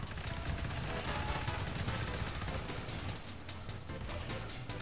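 Automatic sentry turret in the co-op horror shooter GTFO firing a sustained, dense burst of rapid shots, loud and continuous throughout, easing slightly near the end.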